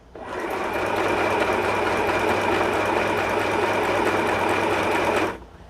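Dechow portable sewing machine running steadily through a straight stitch, a continuous close mechanical whir with a low motor hum that starts, holds for about five seconds and stops abruptly, with no talking.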